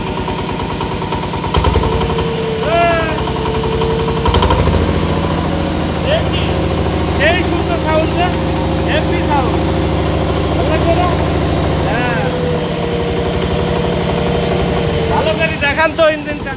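A Yanmar 105 6.3 hp diesel engine idles steadily and close by with a low, even rumble throughout, while a person talks over it now and then.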